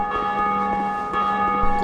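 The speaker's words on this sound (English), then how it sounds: "Okay, I've rung the bell." A large bell in a belfry in the Dark Souls 2 video game rings loudly, one sustained metallic strike with a long, humming resonant decay heard alone.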